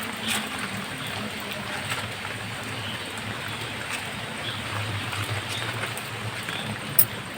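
Steady rain hissing and pattering, a continuous wash of noise with a faint sharp tap near the end.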